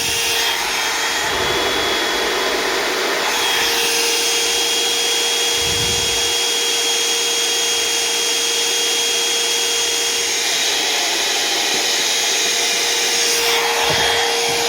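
Hair dryer drying a wet circuit area near a position sensor during a Toshiba repair, a loud, steady, close blowing roar that runs unbroken for the whole stretch, with no voices.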